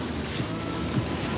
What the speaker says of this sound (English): Winds, oh my God, stop blowing.